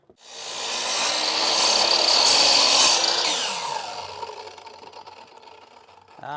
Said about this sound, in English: so I'm gonna have to cut it from both sides